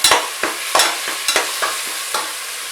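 Repeated scraping strokes of a spoon stirring biryani masala in a hot pan, with a soft sizzle between the roughly rhythmic stirs.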